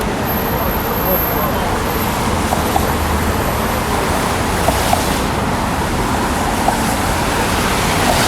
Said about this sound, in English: And this is all cars of New York.